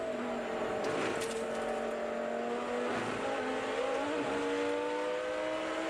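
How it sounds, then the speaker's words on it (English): A race car engine revs hard at the Rolex 24 at Daytona, a loud continuous in-car drone that climbs steadily in pitch, with no talk. "You heard the engine rev when the wheels got light."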